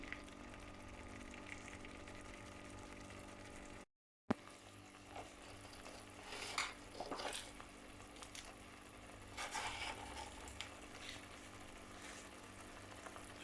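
Fish curry simmers down in a pan, giving a faint, low bubbling and soft sizzle that runs steadily, with an occasional light clink or tap near the middle.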